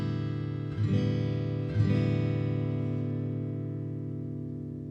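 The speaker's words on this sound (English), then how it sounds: "And here I'm strumming with my thumb." Guitar strummed with the thumb instead of a pick, giving softer, rounder chords; two gentle strums about a second apart ring and slowly fade, heard close with no talking.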